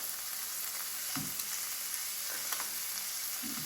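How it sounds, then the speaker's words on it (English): Coriander and cumin powder sizzle and fry in a pan for chicken tikka masala sauce, a steady close hiss broken by a few soft stirring scrapes and taps. "mix it well"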